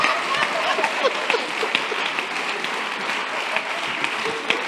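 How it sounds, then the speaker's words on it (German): An audience at a comedy show applauds its candidates with steady, dense clapping that holds at an even level throughout, with no talking over it. "Applaus für unsere Kandidaten, meine Damen und Herren."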